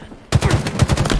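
Rapid automatic gunfire bursts out in the Halo video game, a dense rattling stream of shots starting abruptly and continuing loud and close.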